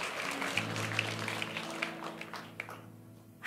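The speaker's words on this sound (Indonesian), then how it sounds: "Tepuk tangan" A church congregation clapping hands during an Indonesian sermon, a short burst of scattered claps over lingering music and room tone, fading toward the end.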